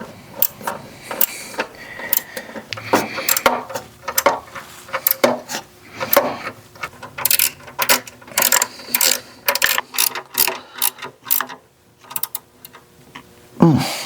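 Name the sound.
ratchet tightening catalytic converter heat shield bolts on Ford Fiesta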